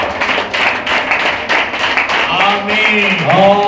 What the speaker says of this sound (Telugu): చేతులెత్తి గట్టిగా చప్పట్లు కొట్టి దేవుని మహిమపరచుదాం